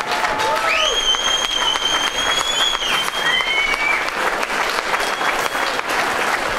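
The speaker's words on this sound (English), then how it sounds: "give Donna a round of applause" Standing audience gives Donna a sustained round of applause at a cure-for-VWM event, a loud, even roar of clapping throughout, with a few whoops or whistles rising above it.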